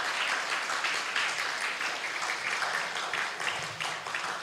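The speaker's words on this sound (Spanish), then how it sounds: "Dele fuerte las palmas al Espíritu Santo" A church congregation claps hands together during a sermon, a dense, continuous patter of many hands at fairly steady loudness, sounding moderately near and filling the room.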